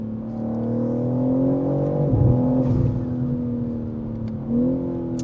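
A 650 hp Manhart MH3 650 BMW M3 Touring accelerating at full throttle, heard from inside as a loud, rising engine drone with a brief dip and renewed climb at a gear change.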